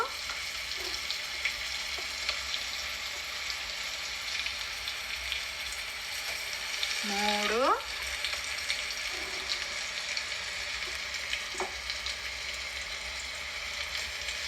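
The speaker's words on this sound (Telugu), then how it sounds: "నాలుగు టీ స్పూన్లు నేను అల్లం వెల్లిపాయ ముద్ద వేసినాను" Ginger garlic paste frying in a worn nonstick pan, a continuous even sizzle throughout with a brief tonal squeak midway and faint clinks, no voices.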